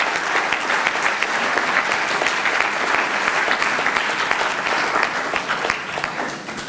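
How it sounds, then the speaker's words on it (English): An awards ceremony audience gives a sustained round of applause, many hands clapping in a steady dense roar that stays loud and eases slightly toward the end. "applause."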